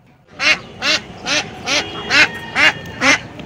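Ducks at a crowded poultry market quack loudly and close by, eight evenly spaced honking calls in a steady rhythm, with no talking.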